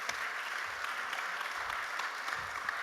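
Steady applause from a community gathering's audience for people who came up front, an even wash of clapping heard from some distance, soft and unbroken throughout.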